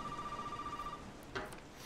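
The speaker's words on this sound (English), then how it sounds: "The phone is ringing." A telephone rings with a steady electronic trill lasting about a second, fairly faint, then stops, leaving quiet room noise and a brief clack.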